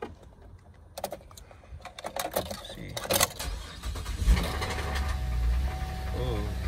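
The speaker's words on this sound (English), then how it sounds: "Got a knock when it first cranks." A Chevrolet Impala LTZ engine cranks and turns over at an auto auction lot, with clattering mechanical knocking, then settles into a steady idle rumble amid outdoor background noise.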